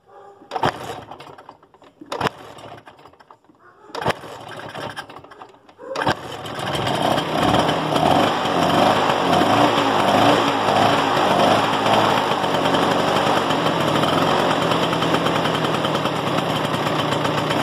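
Yellow Vespa PX scooter starting after a new stator was fitted: a few brief cranking bursts, then the two-stroke engine catches and runs steadily, loud and close, revving slightly throughout.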